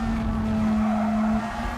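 Race car braking hard into a corner in a racing video game, engine drone with a steady high tonal whine and a faint skid, loud and continuous throughout, no voices.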